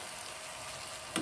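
White pepper frying in hot oil for sambal lada putih, a continuous near sizzle with a short popping burst near the end, heard alone without talk.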